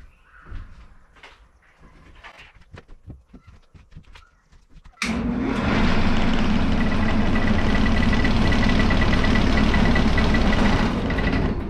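A wood lathe spins up an emerald blank at about 700 RPM. A few light knocks and taps come first, then the motor cuts in abruptly as a loud, steady whirring drone that runs to the end.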